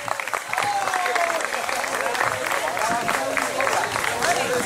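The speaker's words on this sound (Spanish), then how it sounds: "un aplauso para las niñas" Audience applause after young girls perform at a family gathering's cultural event, continuous clapping mixed with crowd noise and a singing or talking voice over it.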